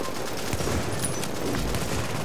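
Gunfire in The Division crackles in a dense, steady burst of rapid shots, loud and continuous throughout, with no talking over it.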